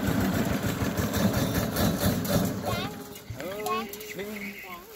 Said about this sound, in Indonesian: kalau sudah pakai mesin nggak berlama-lama mipilnya.